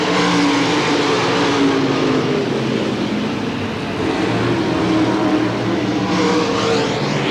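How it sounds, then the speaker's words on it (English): Late model race cars roar around a speedway during a 50 lap feature race in 1993 at Hamilton County Speedway, a loud continuous engine drone that swells and fades as the pack passes. "We're 41 laps down in this 50 lap late model feature race."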